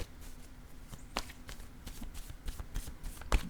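A deck of playing cards being handled and shuffled close by, with quiet riffles and soft papery flicks and taps scattered through a few seconds, no talking.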